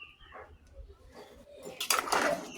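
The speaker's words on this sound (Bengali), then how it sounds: "ভালোভাবে নেড়ে দেব।" Beef and potatoes are stirred in a cooking pot, giving a few faint scrapes and clinks of a utensil against metal that build to a louder rattling scrape at the end.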